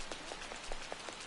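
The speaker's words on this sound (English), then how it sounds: "It's raining really hard." Heavy rain falls in the video game Persona 5 as a brief, faint, steady hiss with a few soft droplet taps.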